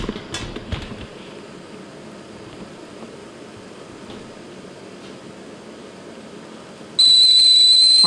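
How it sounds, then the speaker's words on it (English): A camping kettle heating water for tea sits under a low background hiss at first, then abruptly breaks into a loud, steady high-pitched whistle as the water boils. "This one will whistle. Let's go ahead and make our tea."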